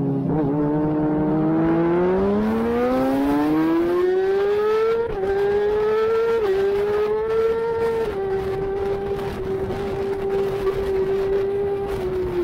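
A road racing motorcycle screams past at Oliver's Mount, its engine note rising through the gears with sharp shifts, loud and close before holding a steady high pitch.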